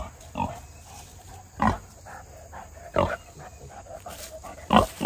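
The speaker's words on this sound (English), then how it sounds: "And pigs." Pigs at a Missouri roadside park give a few short, scattered grunts, fairly close, over quiet outdoor background noise.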